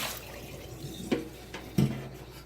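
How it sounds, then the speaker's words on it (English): Water from a sink tap runs steadily while a Keurig coffee maker's reservoir is rinsed out, with two brief knocks of plastic against the basin standing out over the quiet, close flow. "And I'm going to rinse out the water reservoir"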